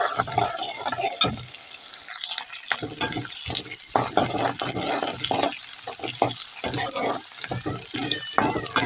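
Garlic sautés in a pan with a soft, continuous sizzle, broken by frequent stirring scrapes and clinks at close range, with no talking.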